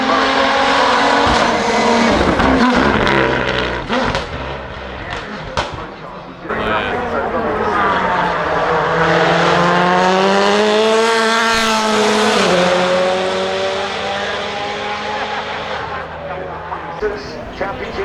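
A Toyota V6 off-road race car drives a course with lots of suspension movement, its engine note rising and falling loudly and continuously, with tire noise at moments and commentary talking over it throughout.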